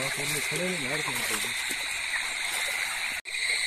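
Steady rushing of flowing stream water throughout, with a person talking over it near the start.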